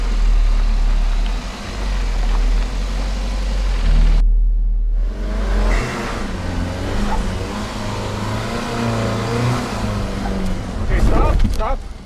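A 2018 VW Alltrack or Audi Allroad climbing a steep dirt hill at a gold mine, its engine droning loudly with a low rumble that briefly drops out and then returns, with indistinct voices nearby.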